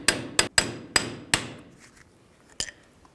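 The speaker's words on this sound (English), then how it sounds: "Just kind of give it a tap with a hammer." Five sharp metallic taps of a hammer on a brake cap of a Ford E-250 in quick succession, then a short pause and one more ringing tap, close and clear.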